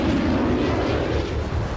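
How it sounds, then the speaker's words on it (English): F-16 Maverick missiles and 500-pound bombs striking a Syrian nuclear reactor site, a loud sustained rumbling roar of blasts with dense noise and no voices. "The F-16s fire off their Mavericks at the site, followed by the release of their 500-pound bombs."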